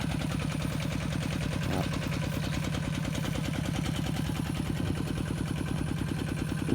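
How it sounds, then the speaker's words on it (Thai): A water pump driven by an engine drawing water from a canal to fill rice fields in rural Isan, Thailand, runs with a steady, loud, rhythmic chugging and low throb that never lets up. "น้ำสูบจากคลองนี่ครับ สูบจากคลอง"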